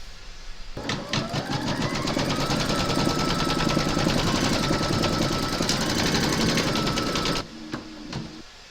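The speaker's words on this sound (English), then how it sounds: "Pop your hoop into your machine and stitch round number 2 to secure them." Embroidery machine stitching a candy cane design through batting held in a hoop, a steady fast mechanical needle rhythm running loud and close for about seven seconds before cutting off, followed by a few small clicks.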